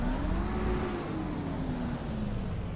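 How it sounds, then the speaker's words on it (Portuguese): A Western Star 4800 truck engine idles and revs in American Truck Simulator, giving a continuous loud diesel drone with a rising and falling tone across the whole stretch. "Vocês estão ouvindo aí o motor."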